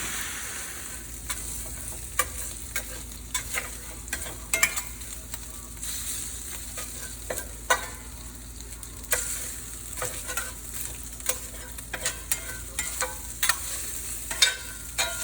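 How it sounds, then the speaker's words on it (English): Steak for a Philly cheesesteak fries in a pan, a quiet, even sizzle dotted throughout with irregular crackles and sharp spatters, heard close with no talking. "steak down, it's frying up"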